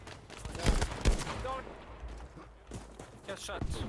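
Quick bursts of video game gunfire crack out in a short volley, with a few scattered shots following, fairly quiet overall and mixed with game noise and faint voices.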